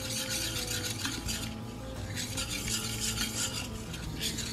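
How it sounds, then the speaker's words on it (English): A dough whisk stirs yeast into water in a bowl, making a continuous close-up swishing and scraping with light clinks against the sides. "I'm going to stir this up."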